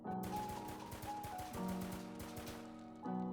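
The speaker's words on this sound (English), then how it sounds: "Next up, the Beretta M9, the worst pistol in the game." Rapid pistol shots from a Beretta M9 in the Roblox game Jailbird, fired in quick bursts of sharp cracks with a ringing tone, close and loud, with brief pauses between volleys.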